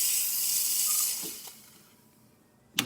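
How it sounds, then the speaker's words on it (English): Steam hisses loudly and steadily from the steam wand of a Rancilio espresso machine for about a second, then fades away. A few soft clicks follow, and a sharp burst comes at the end. "the steam is perfectly fine"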